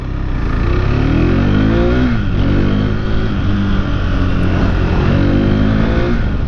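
KTM RC390 with its single-cylinder engine of almost 400cc, revving hard on a test ride, loud and close, climbing and dropping through repeated surges with steady engine roar throughout.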